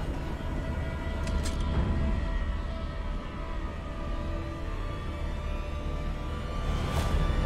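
A train rumbles steadily in Metal Gear Rising: Revengeance, a continuous roar of rail noise with a couple of brief sharp metallic swishes cutting through it.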